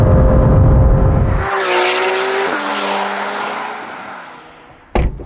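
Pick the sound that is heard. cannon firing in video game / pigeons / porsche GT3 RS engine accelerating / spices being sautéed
porsche GT3 RS engine accelerating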